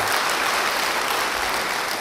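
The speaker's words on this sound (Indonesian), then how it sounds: "Yang mau beri tepuk tangan bagi Dia." A church congregation applauds during a sermon, a loud, dense, continuous roar of clapping filling the brief moment without any voice on top.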